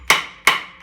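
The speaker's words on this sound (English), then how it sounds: "So I'm just going to tap it with a hammer" Three sharp metallic hammer taps on a Howard Gem tractor being split apart at the clutch, evenly spaced and close, each ringing briefly before fading, with no talk.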